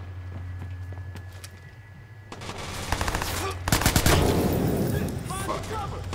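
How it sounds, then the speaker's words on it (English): Enemy gunfire in Watch Dogs: bursts of automatic shots break out midway through, loud and clustered, over steady game ambience with footsteps and a low hum. "They're shooting us already."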